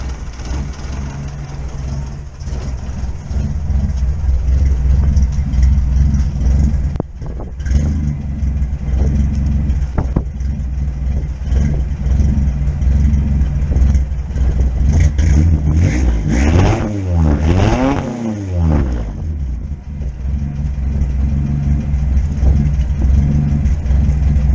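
A car fitted with a homemade exhaust built from junk parts idles roughly and loudly up close, with a deep uneven rumble, then revs up and falls back in a sweeping rise and drop before settling again.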